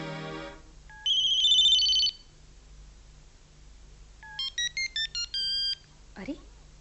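A mobile phone plays a melodic electronic ringtone, a sustained phrase then a run of short repeated beeps, loud and close, with a brief voice at the start.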